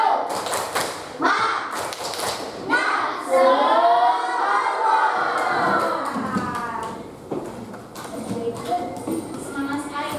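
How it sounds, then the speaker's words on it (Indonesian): A class of fourth-grade children performs a rhythmic 'tepuk semangat' clapping chant, with sharp claps at the start and then voices chanting together in a lively, close, fairly loud group. "Yang semangat, tepuk semangat."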